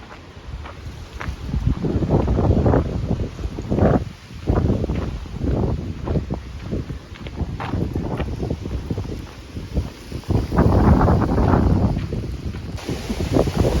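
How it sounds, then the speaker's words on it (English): Outdoor wind gusts rise and fall in several strong surges, buffeting the microphone with a rumbling roar that swells and briefly eases, and no talking is heard. "Wind is definitely picking up."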